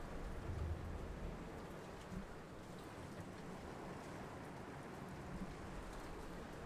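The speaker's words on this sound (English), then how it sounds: "can you hear that rain outside" Steady heavy rain from a thunderstorm outside hisses continuously, with faint low rumbles beneath; no voices.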